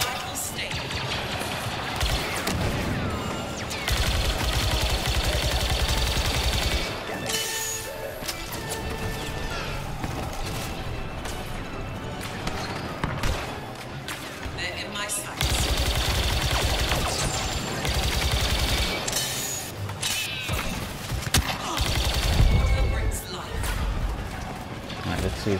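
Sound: blaster gunfire in video game Star Wars Battlefront II

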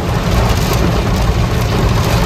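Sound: heavy rain falling

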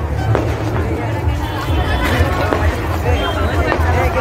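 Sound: crowd at a busy park fair

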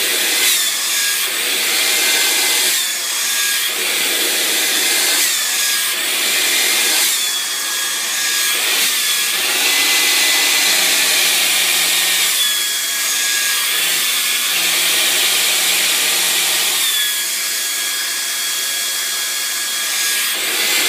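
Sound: hair dryer blowing while styling hair

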